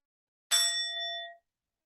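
A single meditation bell struck once in an aikido class, ringing with clear bright overtones that sustain and slowly fade over about a second, loud and alone in a quiet room.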